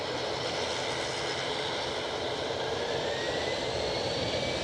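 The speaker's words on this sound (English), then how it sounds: "KLM blasting down the track." KLM jet rolling down the runway on takeoff at Edinburgh airport, a steady broadband jet roar held at moderate, distant level throughout with no voices.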